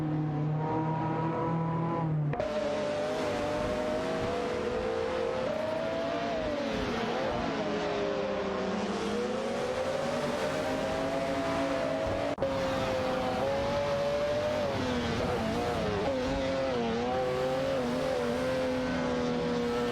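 Race cars in an AI racing video game accelerate and overtake one another, a continuous loud engine whine whose pitch climbs and dips through gear changes, with no pauses across the stretch.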